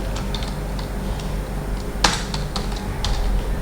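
Computer keyboard keys pressed for a Ctrl-Shift-N shortcut while creating folders on a desktop, a handful of light clicks with one sharper tap midway over a low hum.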